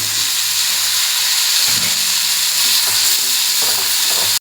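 Tomato sautéing with softened onions in a pan, a loud, dense hissing sizzle with stirring scrapes, continuous and close with no voices.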